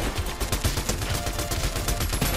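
Rapid gunfire in Fortnite, a dense, continuous burst of shots with heavy low-end rumble, loud and close with no pauses across the whole span.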